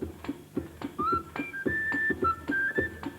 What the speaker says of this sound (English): I want you to whistle, so wet your whistles.